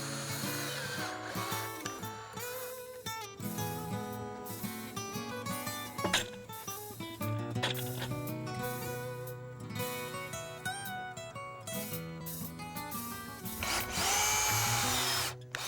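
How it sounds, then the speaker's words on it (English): A power drill whines and revs in repeated bursts as rust-resistant self-tapping screws are driven through clamped pieces into a lattice panel for an arched garden arbor, close and steady over about fifteen seconds. "attach them with the same rust-resistant self-tapping screws"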